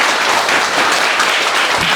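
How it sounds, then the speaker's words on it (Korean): A studio audience bursts into steady, dense applause for two guests, loud and continuous from start to finish, with no talk over it. "두 분에게 박수 한번 부탁드립니다"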